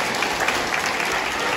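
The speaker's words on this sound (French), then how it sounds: "On peut l'applaudir très, très, très fort." Loud, sustained audience applause at a stage hypnosis show, many hands clapping in a dense, even roar with no voices over it.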